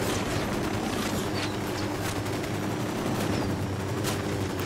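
Dense gunfire from Ghost Recon Wildlands, with continuous overlapping shots and bursts forming a loud, steady barrage that holds for the whole stretch without a clear pause.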